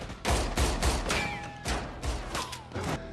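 Rapid bursts of gunfire in a film fight scene: about a dozen loud, sharp shots in an uneven volley, with a few ringing, whistling tones between them and no talking.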